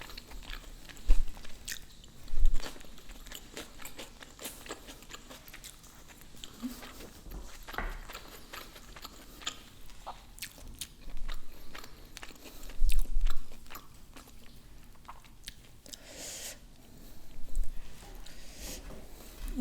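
Crisp bites and crunches of a raw onion eaten during a Korean barbecue mukbang, close up: a few sharp crunchy bursts scattered between quieter chewing and faint rustling, with no talking.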